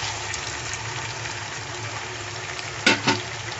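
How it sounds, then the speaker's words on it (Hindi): Tomato paste goes into chicken karahi frying over medium heat, producing a wet, bubbling sizzle with a soft stirring swish and two sharper splashy spatters near the end, and no talk. "अब हम इसमें डालेंगे टमाटर का पेस्ट"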